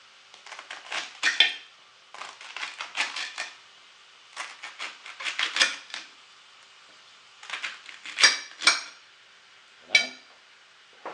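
Knife slicing pork kidneys into thin strips on a cutting board, a rapid series of close, crisp tapping cuts in several clusters with short pauses between them.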